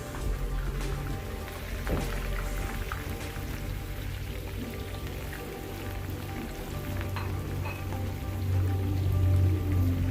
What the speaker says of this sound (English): Once my vegetable oil is heated, I throw in the chopped onions